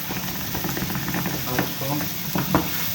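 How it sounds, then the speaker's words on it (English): Garlic stir-frying for fried rice, a constant close sizzle with scattered scrapes and clinks of a utensil moving through the pan, no talking. "Now we are adding garlic."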